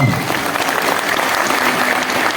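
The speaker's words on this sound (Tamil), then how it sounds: "காளமேக புலவருக்கு இந்த கைத்தட்டு போதும்னு நினைக்கிறீங்களா?" A live concert audience at the Chennai Book Fair claps steadily together, a dense, even wash of applause lasting the whole moment.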